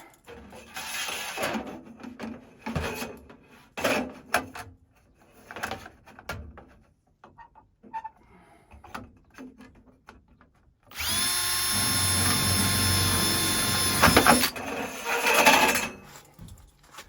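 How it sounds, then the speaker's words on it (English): Power drill with a one-eighth inch bit bores a pilot hole while a chimney pipe for a sauna wood stove is installed through a roof. Scattered handling knocks come first, then one loud whirring burst of about three seconds, close up, with no talk. "One-eighth inch drill bit."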